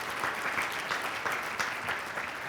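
Steady applause from an audience at the annual Columbus Division of Fire awards ceremony, sustained clapping without pause throughout.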